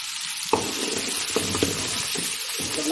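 Garlic sizzling in hot oil for a coconut fish curry, a steady loud crackle with a few stirring clinks and scrapes of a spoon against the pan, no voices.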